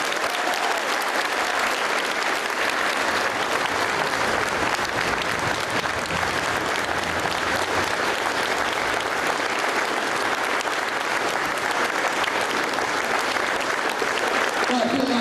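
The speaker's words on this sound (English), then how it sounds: "giving both of these coaches a well-deserved applause" An audience at a school sports awards dinner applauds two coaches, a dense, steady wash of clapping that fills the room at an even level for the whole stretch without letting up.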